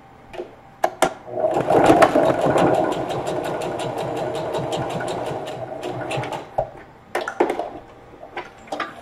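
A sewing machine stitches fabric for a lunch tote in steady, fast mechanical runs, pausing and restarting with short bursts and clicks near the end.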